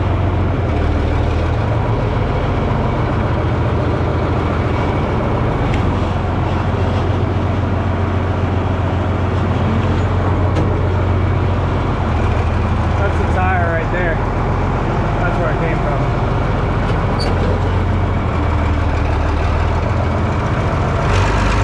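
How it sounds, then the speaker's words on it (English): A tractor is driven into a shop: a loud, continuous diesel engine rumble holding steady throughout, close by and dominating, with a voice talking faintly underneath. "I'm going to go get the tractor"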